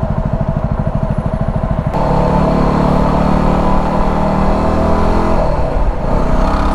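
Steady, loud road traffic close by, with engines droning and revving as vehicles move past; no talking.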